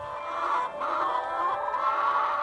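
Domestic hens cluck and murmur in a steady, continuous stream, close and fairly loud, with several birds overlapping and no voices.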